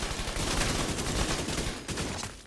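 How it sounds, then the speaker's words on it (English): A deployed turret in The Division 2 fires continuously in a dense, loud rattle of rapid shots with no pause. "Let the turret help you."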